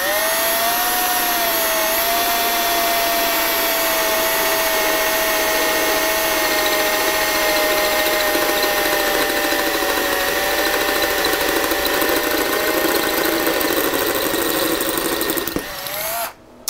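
A small drill bit bores through a part, giving a loud, steady high-pitched whine that holds for about fifteen seconds before cutting off abruptly at the end.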